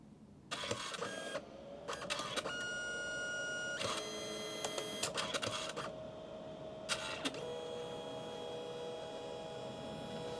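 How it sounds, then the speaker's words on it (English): A printer whirs and clicks through repeated mechanical bursts over a steady electrical hum, with feed motors starting and stopping at a fairly quiet level. "It should show up as being busy there, and now it's printing."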